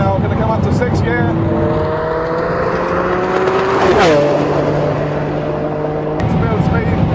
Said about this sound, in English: accelerating onto the runway, building speed all the way onto the runway